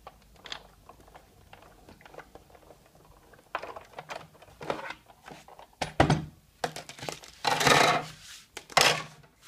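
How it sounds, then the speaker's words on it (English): A paper card inside an embossing folder being cranked through a Big Shot die-cut machine, giving a series of uneven clunks, clicks and grinding bursts that grow denser toward the end, close and fairly loud. "I'm going to run the card through the Big Shot"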